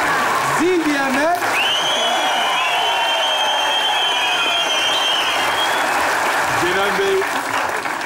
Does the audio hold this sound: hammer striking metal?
no